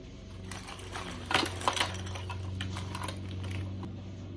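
A home sewing machine stitches a quilted vest in a rapid mechanical patter, running steadily with a few louder clacks early on, alone and close.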